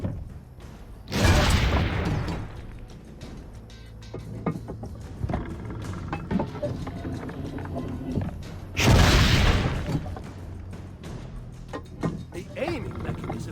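Cannon fire in Assassin's Creed Brotherhood: two heavy booming blasts several seconds apart, each with a rumbling tail, over ambient game background and intermittent talk.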